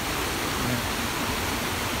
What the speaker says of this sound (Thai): นี่ น้ำตกอยู่ตรงนี้